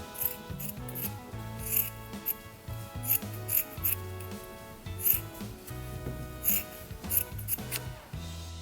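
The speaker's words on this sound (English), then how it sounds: "cut off any excess fabric" Scissors cutting off excess sock fabric, a steady series of soft, close snips and rubbing rasps with a repeating rhythm, fairly quiet with no talk.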